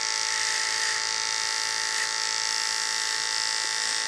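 Electric hair clippers buzz with a steady high whine as they blend a fade into hair at a smaller blade size, a continuous close hum with no voices.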